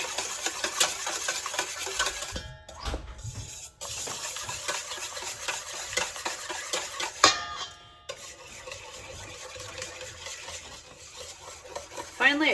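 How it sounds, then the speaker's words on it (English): A whisk beats pancake batter of eggs, milk, salt and vanilla in a bowl, a rapid continuous rattling clatter close by that pauses briefly twice, then resumes steadily. "All right, so now I gotta whisk this together."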